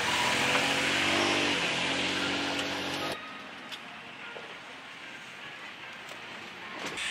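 Engine of a third-generation Toyota Tacoma revving as the truck climbs a steep slope in four-wheel high, a loud steady drone for about three seconds before dropping to quieter rumbling and scuffing.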